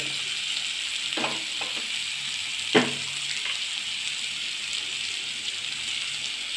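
An egg snack fries in a pan with chili, turmeric and masala powder, giving a soft continuous sizzle and hiss with a few quiet stirring clicks near the middle. No one talks.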